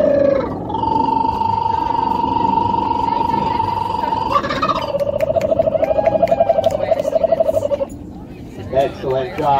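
Person imitating a kookaburra call: a sustained, rising, warbling whoop that breaks into rapid, loud, cackling laughter-like bursts, close to the microphone before a crowd.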